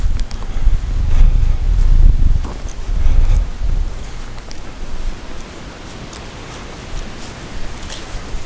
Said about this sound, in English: It's really windy up here. It's been windy all day. About 30-mile-an-hour winds.